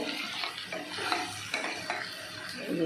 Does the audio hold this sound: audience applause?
no